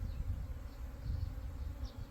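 Honey bees from a captured swarm buzz in a low, steady drone that stays continuous and fairly faint throughout, in a cold mountain setting with no talk.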